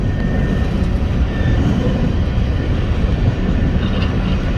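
A BNSF freight train rolls past a crossing at Palmer Lake, Colorado, a continuous loud rumble and rail roar holding steady throughout without voices.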